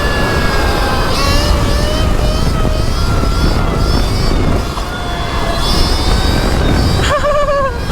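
An 80-horsepower electric bike runs at full power, a loud steady whine with rising and falling pitch over heavy rushing wind noise, close to the rider the whole time.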